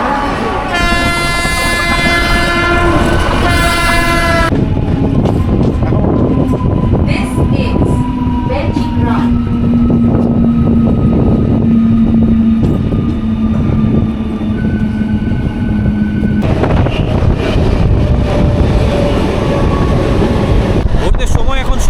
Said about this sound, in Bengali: নির্ধারিত সময় কিন্তু আমাদের স্টেশন থেকে ট্রেন ছেড়ে দিয়েছে